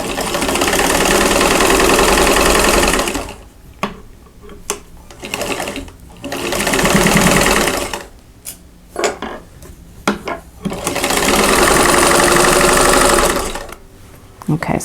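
A sewing machine stitches rows of quilt block pieces for an Orion's Wheel block in three long, loud running bursts, separated by quieter gaps with handling clicks and a voice talking.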